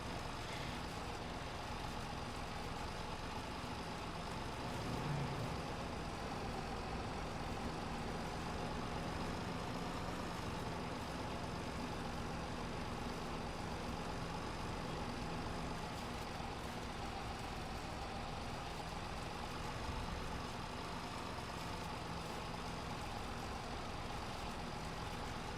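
A vintage tractor engine idles steadily, a continuous low rumble with no change in pace, heard close by and alone.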